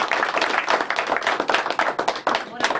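Audience applause for Jože, who played the oprekel, at a literary evening in Skomarska hiša in Zreče: dense, steady clapping from a room full of people lasting a few seconds at an even loudness.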